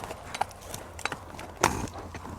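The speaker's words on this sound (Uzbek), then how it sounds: "Ana ot. Ana tulpor." A strong riding horse, its hooves and loose shoes recently tended, gives a few sharp, separate hoof clops or stamps spaced across a couple of seconds, fairly close against a quiet background.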